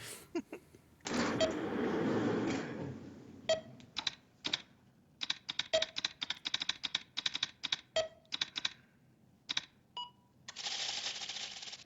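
Loud computer keyboard typing in the TV series Lost, rapid uneven bursts of clacky keystrokes with short pauses, set between stretches of noisy whirring.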